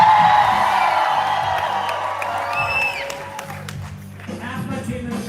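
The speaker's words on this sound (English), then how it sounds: "Half my team in the back was clapping for the banjo." Concert crowd at a bluegrass show cheering, whooping and clapping after a banjo number, a broad loud wash of voices and applause with a sustained instrumental tone underneath, fading slightly before a new swell.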